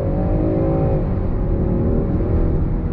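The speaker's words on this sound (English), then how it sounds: "All right, I wanna see how this big old Land Rover handles. Here we go, on throttle." A 2023 Land Rover Defender 130, a large three-row SUV, accelerates hard on throttle, its engine note climbing steadily and then settling into a sustained, loud drone heard from inside the cabin.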